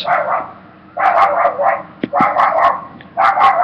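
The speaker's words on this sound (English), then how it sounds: "Why the fuck is someone abusing their fucking dog every fucking day?" A dog in the neighborhood yelps and barks in repeated bursts of sharp, high cries, fairly close and loud, with short gaps between the volleys.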